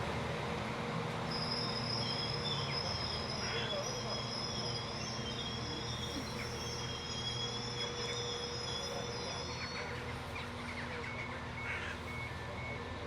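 A Northern class 195 train departs a station with a steady rumble and high squealing wheel tones on the rails, heard close by and continuously.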